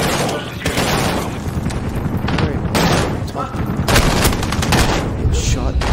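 Heavy automatic gunfire and booming blasts fill a Call of Duty Modern Warfare campaign firefight, a dense continuous barrage with sharp shot bursts and low explosions throughout, with voices mixed in.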